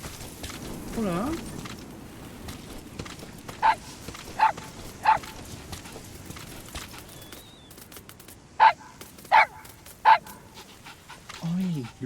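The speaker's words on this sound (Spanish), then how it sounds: "That wild dog pup." A wild dog pup in Metal Gear Solid V pants and gives six short, sharp yips in two groups of three, fairly close, over quiet game ambience, with a voice speaking briefly at the start and end.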